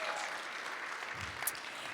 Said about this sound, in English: give Zachary Ibati with the City of Hayward a huge round of applause